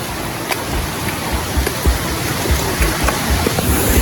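A fast, forceful stream rushes steadily nearby, giving a loud, dense, broadband wash of churning water with small splashes throughout and no talk.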